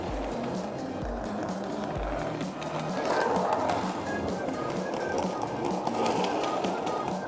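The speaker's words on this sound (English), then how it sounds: "That is the loudest trolley I've ever heard in my life" A very loud trolley rolls by on an outdoor pavement, giving off a continuous rattling, grinding roll with a few low thumps early on and faint chirps in the background.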